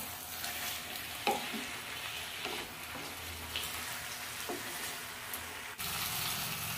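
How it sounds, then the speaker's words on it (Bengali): Winter vegetable curry with coriander leaves stirred in a pan: a continuous close sizzle with repeated spoon scrapes and knocks at irregular intervals, no voices. "ধনেপাতা দিয়ে সবকিছু দিয়ে মাখো মাখো করে নেব"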